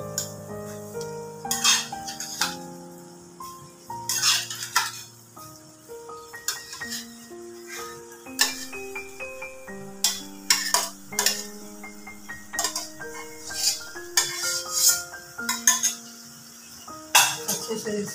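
Potatoes are stirred into softened tomatoes in a pan, with a spoon clinking and scraping against the metal in irregular taps over a faint sizzle, while light music plays throughout.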